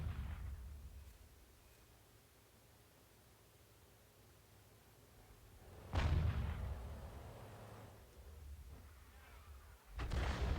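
Tank cannon shot in World of Tanks, an AMX 13 F3 AM artillery piece, a loud sharp blast rising from a steady low rumble and then decaying, with a second blast starting at the very end.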